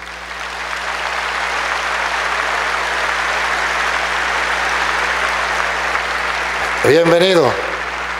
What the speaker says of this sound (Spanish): Aplausos para el hermano.